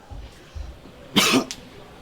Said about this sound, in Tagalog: Inuubo pa yung tao.